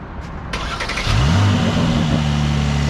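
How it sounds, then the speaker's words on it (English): A Mercedes-AMG C43 fitted with an AMG performance exhaust cranks and fires up, a brief starter whir followed by a loud surge of engine revs that settles into a deep, steady rumble close by. "So we're gonna turn on the C43. I'm gonna show you guys what it sounds like first."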